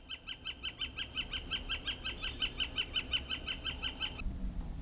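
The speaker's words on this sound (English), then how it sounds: "Got a woodpecker heckling me, listen." A woodpecker in a walnut tree gives a rapid, rattling series of sharp calls, about a dozen evenly spaced notes over several seconds, moderately distant against quiet background.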